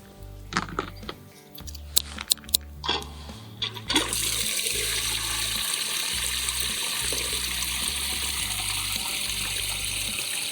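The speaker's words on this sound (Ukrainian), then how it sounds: "Набираємо воду в оприскувач." A battery-powered Bukovyna CL-12A garden sprayer's tank is filled with water: a few knocks and splashes at first, then a steady, loud rush of pouring water continuing for about six seconds.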